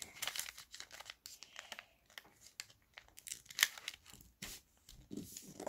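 Sheet of paper folded into an origami crane, with a run of soft crinkling and crisp creasing sounds in quick irregular bursts, close and quiet, with no one speaking.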